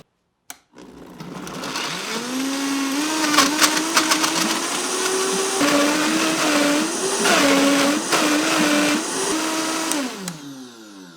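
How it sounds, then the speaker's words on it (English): A kitchen blender whirs through a smoothie, starting abruptly and running loud and close for about ten seconds, its motor pitch wavering and dipping as the contents churn, then cutting off. "Now I'll throw this on the blender, blend it all up, and we're gonna have ourselves a damn good smoothie."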